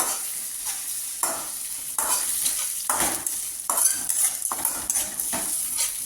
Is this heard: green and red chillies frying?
yes